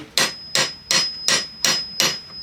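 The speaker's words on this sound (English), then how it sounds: "Let me give it a little tap with the hammer right here." A hammer taps six times at a steady, even pace on an antique A.I. Root observation hive while a glass panel is being fitted, each strike a crisp, ringing knock, close and fairly loud with no talking.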